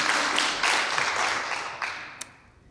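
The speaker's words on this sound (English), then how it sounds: "He should get like a round of applause for that." A brief round of audience applause at a WordPress career talk, moderately loud at first then thinning and fading out, with a few scattered final claps.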